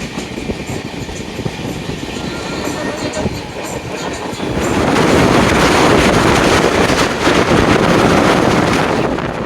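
The Saraighat Express runs between Guwahati and Howrah, a continuous loud rumble and rattle of the moving train with wind buffeting the microphone, growing heavier about halfway through.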